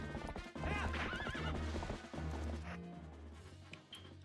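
Horse hooves clip-clop at a gallop while a horse neighs and whinnies repeatedly in the Metroid Dread video game, loud and close, with game sound effects layered over the steady hoofbeats and no talking.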